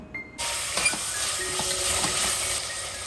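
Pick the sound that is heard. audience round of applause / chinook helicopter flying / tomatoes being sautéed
tomatoes being sautéed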